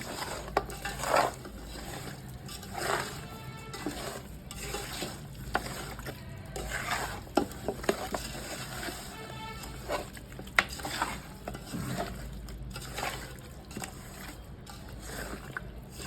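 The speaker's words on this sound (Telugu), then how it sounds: "దీన్ని బాగా మిక్స్ చేసుకోవాలి ఈ మసాలాస్ని." Masala being stirred into chicken biryani in a pot gives soft, irregular scrapes and clinks of a spoon against the pot over a low, steady background hiss.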